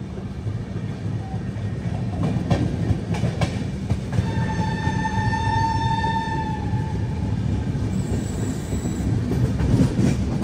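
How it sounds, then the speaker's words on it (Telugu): A train passes on the adjacent track during a Visakhapatnam to Varanasi rail journey: a steady heavy rumble and wheel clatter, with a long horn blast sounding midway, loud and sustained throughout. "అటు సైడ్ ఏదో ట్రైన్ వస్తుంది."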